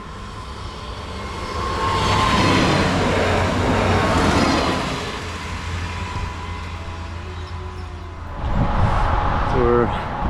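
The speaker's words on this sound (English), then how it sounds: "Hope I hear a train coming from the right." A train rumbles along a railway by the Rhine near Basel, swelling from a distant approach to a loud passing roar, then easing while cycling wind noise continues; harmonic tones briefly rise near the end.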